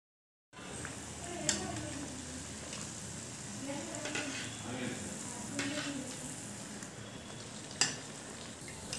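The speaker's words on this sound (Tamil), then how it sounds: "எண்ணெய் காஞ்சதும் அதிரசம் உள்ளே போட்டுடலாம்" Adhirasam fry in hot oil in a kadai, giving a continuous bubbling sizzle after a brief silent start, with two sharp clinks of a utensil against the pan.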